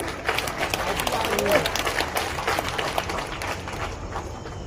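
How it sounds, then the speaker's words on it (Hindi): A political rally audience in Guna claps in a dense, steady wash of applause mixed with crowd noise, with a voice heard faintly through it. "तालियां तो बजा दी,"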